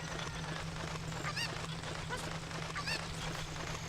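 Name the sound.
chicken (cucco) clucking in Ocarina of Time video game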